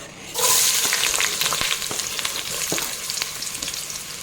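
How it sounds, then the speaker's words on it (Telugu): Chopped onion dropped into hot oil, a sudden loud burst of sizzling that settles into steady close frying with light stirring clicks. "ఆనియన్ కట్ చేసి పెట్టుకున్న ఆనియన్ వేసి ఫ్రై చేసుకున్నాం"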